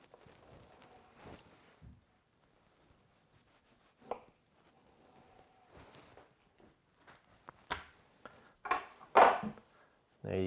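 A knife works through deer top round on a cutting board, cutting it into thick steaks; soft scattered knocks and cuts, quiet at first and then louder, thudding taps near the end.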